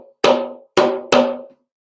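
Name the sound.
African drum signal or break rhythm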